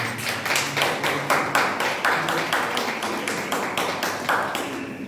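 A theatre club audience claps in an irregular, sparse rhythm at a Russian-language drama performance, individual hand claps standing out distinctly rather than merging into a full ovation, moderately close.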